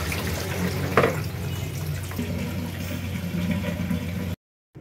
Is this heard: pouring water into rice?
yes